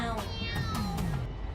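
A person imitates a cat with voiced meows, several short upward-then-falling calls in quick succession, close and clear.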